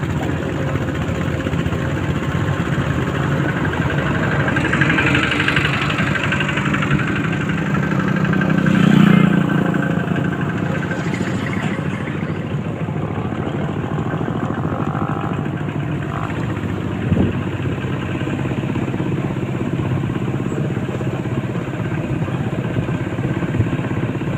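A farm tractor or two-wheeled plough vehicle engine idles steadily and continuously on a rural hill-country road returning from fields, a constant mid-pitched rumble with a brief louder swell partway through and no talk.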